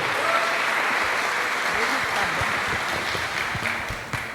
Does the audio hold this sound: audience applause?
yes